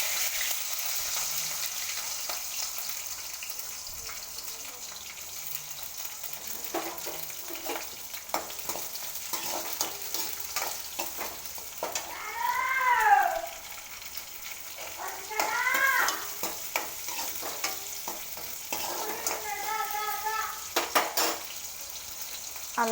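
Green chillies frying in hot oil with whole spices for potato upma make a continuous crackling sizzle, with scattered clinks and scrapes of a stirring utensil, and a person's voice speaks over the frying in the later part.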